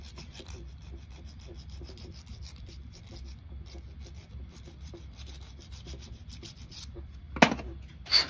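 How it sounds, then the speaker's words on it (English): A metal file works the beveled end of a fishing reel axle shaft, giving a steady, close rasping scrape in repeated back-and-forth strokes, with a couple of sharper knocks near the end. "Let's file it down just a little bit around it."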